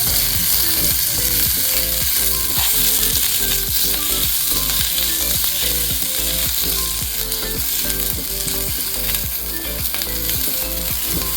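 Onions frying for chicken soup sizzle steadily in a pan, a dense continuous crackle with frequent rhythmic scraping and clicking as they are stirred, close and loud throughout with no talking.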